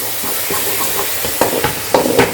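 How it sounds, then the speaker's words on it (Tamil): Ginger garlic paste frying in a hot pan, a steady sizzling hiss broken by a few scraping stirs near the end. "இப்போ எடுத்து வச்சிருந்த இஞ்சி பூண்டு விழுது ஆட் பண்ணிக்கலாங்க. நல்லா மிக்ஸ் பண்ணிட்டுங்க."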